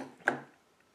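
A single sharp crunch as a crispy MRE cookie is bitten, close and brief, followed by near silence.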